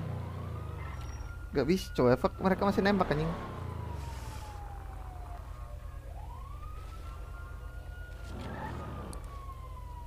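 An ambulance siren wails in the video game GTA V, a long rising and falling tone sweeping steadily through the scene while someone talks briefly over it.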